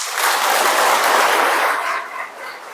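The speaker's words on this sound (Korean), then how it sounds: "우리 서항서 마테오 회장님을 큰 박수로 환영해 주십니다" Audience applause welcoming a guest speaker at a Lenten lecture in a Catholic parish church, a dense, steady wash of clapping from a crowd that holds loud and then thins and fades toward the end.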